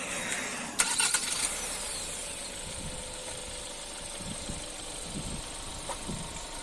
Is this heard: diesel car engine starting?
yes